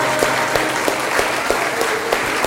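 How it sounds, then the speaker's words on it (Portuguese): A church congregation claps continuously in steady rhythmic unison, loud and close, with a dense wash of hand claps throughout. "Palmas para Jesus."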